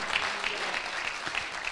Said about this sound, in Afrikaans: kom aan, juig so 'n bietjie in die Here